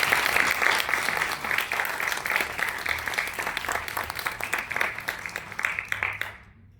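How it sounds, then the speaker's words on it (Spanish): An audience gathered at an event defending the Dolores Olmedo museum in Mexico gives a sustained round of applause, steady clapping that thins out before stopping abruptly at the end. "Recibamos con un fuerte aplauso a nuestros invitados y al público que nos acompaña."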